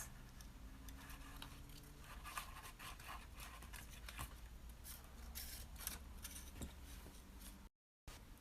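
Scissors snip through paper to cut out a paper dragon puppet, a steady run of soft close crisp snips and rustles over a constant low background hum, ending in a brief dropout.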